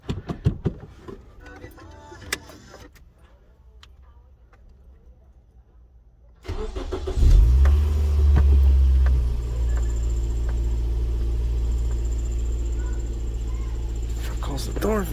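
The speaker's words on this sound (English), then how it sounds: "this is the startup now with that solid mount in the back" After a few quiet seconds with faint sounds, a first-generation Scion xB engine with a solid rear engine mount cranks and catches, then settles into a steady, loud, low rumble close by.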